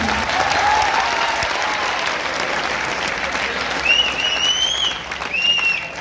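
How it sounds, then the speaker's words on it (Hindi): An audience at a NEET guidance event in Kota breaks into loud, continuous applause to welcome a speaker onto the stage. Crowd noise and a few whistles sit within the dense clapping, which holds steady throughout. "एक बार और जोरदार तालियों के साथ स्वागत है"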